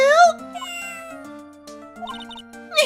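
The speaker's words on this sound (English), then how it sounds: "Oh, what a lovely cat!" A cartoonish cat meows in the Ace Attorney: Justice for All video game, heard as a few short, bright mews over soft game music, the first near the start and a louder one at the end.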